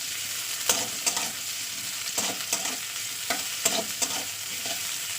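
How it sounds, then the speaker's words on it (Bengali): Whole onion frying in oil in a kadai, a steady close sizzle with several sharp scraping taps from stirring spread throughout, no voices. "পেঁয়াজটা দিয়ে একটু ভাজা করে নিতে হবে"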